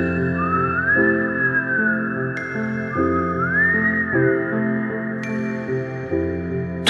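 Two rising-and-falling whistling glides, a story sound effect for the whistling of dwarf stars in a Christmas tale, sound over steady background music with brief tinkling chimes.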